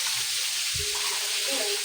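Food sizzles in a frying pan during home cooking in the afternoon. A steady, close hiss of frying fills the clip, with a soft low knock partway through.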